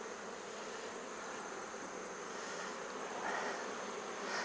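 A dense, steady buzz of honey bees swarms around an open hive in a cold climate, close and continuous with no voices.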